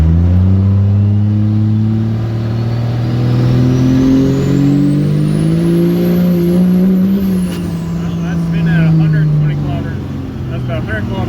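A Cummins diesel truck engine fitted with new 5x.022 injector nozzles pulls hard under acceleration, its deep droning note rising and falling with a whistling turbo climbing high, loud and close throughout.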